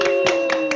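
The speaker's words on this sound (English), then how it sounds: "Let's just all do a round of applause for Dollopine." A handful of sharp, evenly spaced claps, about four in under a second, sounding close and crisp over a steady electronic hum.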